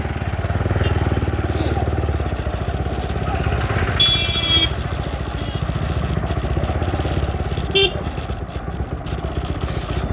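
A motorcycle with a dB killer fitted in its exhaust runs close by with a steady, loud, throbbing rumble for the whole stretch, a few brief higher tones breaking through.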